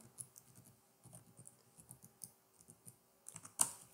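Typing on a computer keyboard during a logic-operator lesson: steady bursts of light plastic key clicks in an irregular rhythm, close and fairly quiet, ending in a sharper clack, with no talk.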